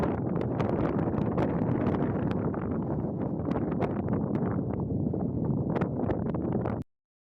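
Strong wind roars steadily across the exposed hilltop of Kinder Scout at sunset, buffeting the microphone with gusty rumble and scattered sharp pops, continuous and close, then cutting off abruptly.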